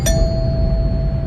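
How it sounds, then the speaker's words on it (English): A single bright doorbell chime rings out and lingers with a clear sustained tone, fading slowly in a quiet room. "Suddenly, the doorbell rang."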